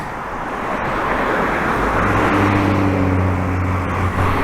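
Steady road traffic in London heard from a bicycle, with cars rolling past at a constant broad rumble and a low engine drone rising partway through, no one talking.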